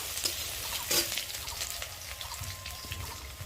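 Chopped onions frying in a pan toward light browning, a steady close sizzle with soft stirring scrapes and a sharper clatter near the start.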